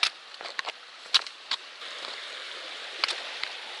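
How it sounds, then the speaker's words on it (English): River flowing at a trail crossing on the Appalachian Trail, a faint, steady rushing hiss broken by a few brief splashes and knocks, with no voices. "It's a river crossing."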